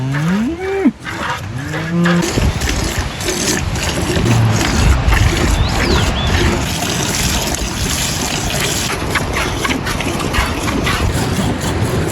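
A cow moos loudly a couple of times near the start, then a dense rumbling, splashing background carries on with a faint distant call.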